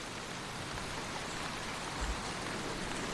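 Summer rain pours over a Devon potato plot in a continuous broad hiss, drops pattering evenly on surfaces nearby, moderately loud with no one speaking.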